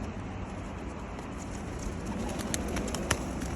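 A pigeon perched close by gives soft, low cooing at a campsite, faint beneath steady outdoor background noise with a few light taps, no talking.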